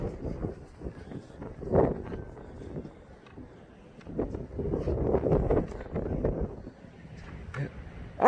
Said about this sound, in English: This wind's so hard.